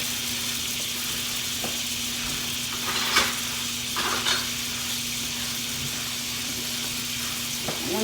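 Butter melting in a pan sizzles steadily and evenly at close range, a constant frying hiss with a few faint clinks and scrapes.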